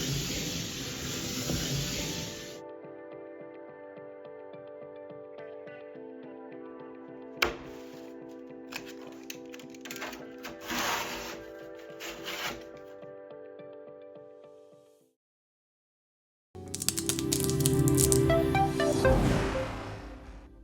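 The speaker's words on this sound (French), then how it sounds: "Puis, d'une seule main, coupez la plaque." A DriverCut cutter, its blade set 3 mm proud between wedges, is drawn one-handed through a vertically stored board. The cutting comes as a loud, close, rough rasping scrape near the end, after a stretch of steady tonal hum and a sharp tap.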